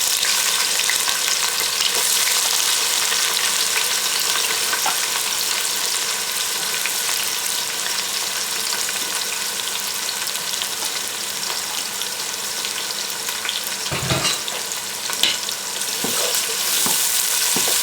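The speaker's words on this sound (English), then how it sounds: "oil heat up, and then we will be adding onions to it." Onions fry in hot oil for an Avadhi biryani, a dense, steady hiss of sizzling oil held throughout at close range, with a brief clatter near the end and no speech.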